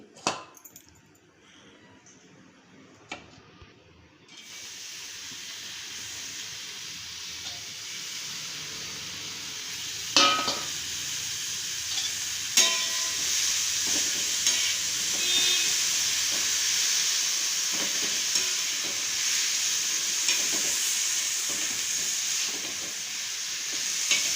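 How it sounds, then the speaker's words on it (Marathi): Chopped fenugreek leaves fry in half a spoon of oil on a flat griddle pan, giving a steady, bright sizzle that starts after a few quiet seconds and keeps going with small crackles and stirring scrapes. "थोडीशी परतून घ्यायची आपल्याला मेथी"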